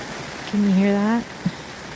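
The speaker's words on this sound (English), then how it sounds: "It's raining." Heavy rain pours onto a tent while camping at Silver Falls State Park, Oregon, a steady, close hiss of drumming drops with a brief voiced sound briefly over it.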